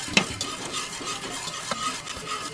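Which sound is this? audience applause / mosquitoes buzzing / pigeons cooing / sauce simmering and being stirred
sauce simmering and being stirred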